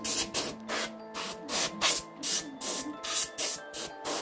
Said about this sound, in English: I'm just going to clean it up with a little bit of canned air. Clean out the track, blow off all the dust.